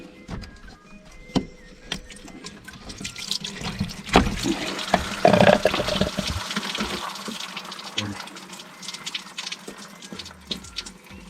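Coolant water from a Land Rover Td5 cooling system drains into a basin during thermostat hose work, a steady splashing pour with scattered metallic clicks and knocks from tools nearby.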